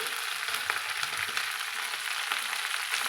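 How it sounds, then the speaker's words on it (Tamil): Curry leaves and shallots sauté in oil in a pan for a curry leaf kuzhambu, giving a steady, close crackling sizzle with faint stirring clicks and no speech. "ஒரு ரெண்டு நிமிஷத்துக்கு இது போல் நல்லா சுருண்டு வர அளவுக்கு நம்ம வதக்கலாங்க"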